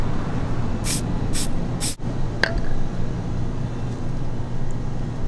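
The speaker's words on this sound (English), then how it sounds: "I'm going to take this EVA foam disc, and I'm going to spray it and this top." Spray adhesive hissing onto an EVA foam disc and the top of a LARP arrow in three short, sharp bursts, close to the mic, followed by a thud and light clatter of handling over a steady background hum.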